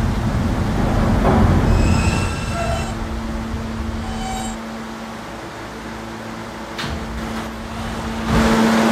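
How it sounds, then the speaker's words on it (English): A Roblox R160A subway train on the K line runs along the track with a steady rumble and a sustained mechanical hum, while intermittent high wheel squeals and brief metallic screeches rise over it and a louder surge builds near the end. "This is a Catlin-bound K train via the B line."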